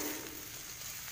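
Boiled potatoes and carrots fry in a pan with a steady, soft, broadband sizzle, faint and continuous with no distinct stirring strokes and no voices.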